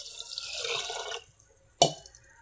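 Water from a mug is poured into a cooking pot of tamarind rasam with dried chillies, curry leaves, tomato and turmeric, a short soft splashing pour followed by a single sharp splash, close and quiet.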